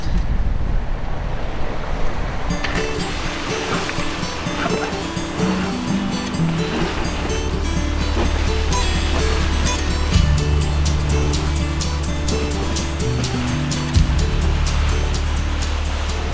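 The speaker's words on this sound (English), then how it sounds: "We've got some wind back and we're sailing again." A sailboat heeling along in light wind of about 10 knots off the African coast, its hull rushing through waves with steady wash and wind noise, plus low rhythmic creaking and thumps from the rigging, continuous and fairly loud.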